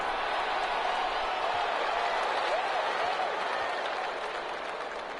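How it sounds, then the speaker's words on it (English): Crowd applause for the defense at a football game, a steady wash of clapping and cheering that swells briefly and then slowly fades over a few seconds. "How about some applause for the defense there?"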